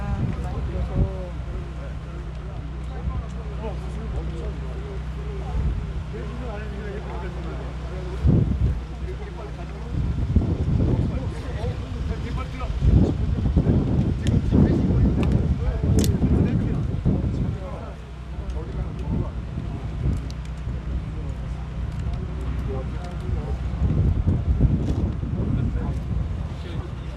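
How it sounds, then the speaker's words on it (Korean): Strong wind buffets the microphone at an outdoor rally, producing deep, rumbling gusts that swell and fade over nearly half a minute while people talk nearby throughout. "오늘 바람 많이 불어서"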